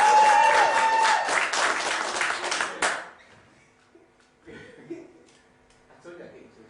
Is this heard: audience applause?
yes